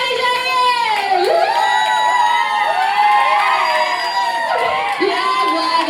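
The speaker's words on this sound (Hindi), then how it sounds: "मेरी जोरदार तालियां होनी चाहिए" An audience at an album launch erupts in loud, sustained cheering, whoops and shouts that fill the hall without a break.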